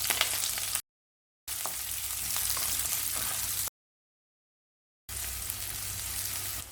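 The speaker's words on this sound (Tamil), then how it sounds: "வெங்காயம் சேர்த்துக்கலாம்." Onion, with mustard seeds, urad dal and green chilli, frying in hot oil for an agathi keerai poriyal, giving a steady close sizzle in bursts broken by two short silent gaps.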